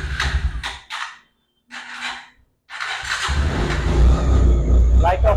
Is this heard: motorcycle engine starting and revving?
yes